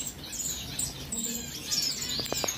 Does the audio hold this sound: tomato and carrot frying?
no